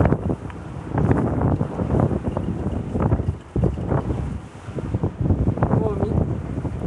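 At a seaside fishing spot in Mizuhashi, Toyama, rough waves and strong gusting wind make a loud, continuous rumbling wash with surging swells and buffeting against the microphone.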